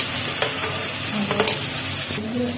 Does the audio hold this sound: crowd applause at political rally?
no